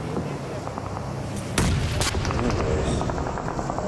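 Grenade blasts in a PUBG Mobile esports match, one heavy close boom midway with a sharp follow-up, set against a busy din of distant gunfire and game noise.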